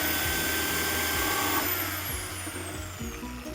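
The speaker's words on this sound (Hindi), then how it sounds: "ये ड्रिल सॉ लगा दिया है मैंने और ये इस तरह से करके" A hole saw on a drill cuts into a plastic water tank lid, giving a steady, loud motor whine with grinding buzz that eases slightly toward the end, with no talking.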